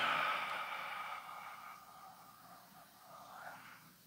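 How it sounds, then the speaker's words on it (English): A long, slow, breathy exhale during guided gratitude breathing, close and soft, fading steadily over a few seconds with no talk. "and breathing out."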